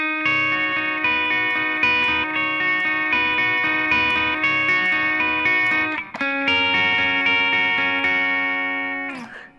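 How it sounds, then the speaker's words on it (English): Distorted electric guitar playing a sustained lead line over muted power chords in the pre-chorus of a song, loud and continuous with heavy effects, then a brief break and a final fading chord. "There is a lead guitar part in that pre-chorus over top of those power chords."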